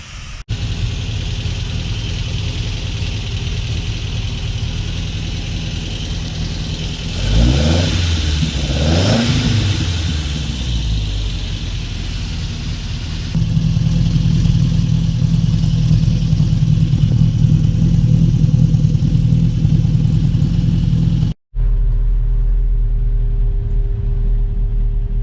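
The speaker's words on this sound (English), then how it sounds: "adjust the valves, put it all back together," A rebuilt Toyota 22R four-cylinder engine runs loud and close with a steady rumble, rising through a couple of quick revs before settling into a heavier idle, then cutting off abruptly near the end.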